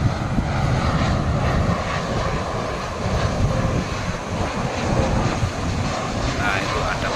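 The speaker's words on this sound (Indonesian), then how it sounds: "Nah, itu ada pesawat Lion." A Lion Air airliner flies near Yogyakarta airport, heard from west of the field as a continuous, fairly loud engine roar with some wind buffeting on the microphone.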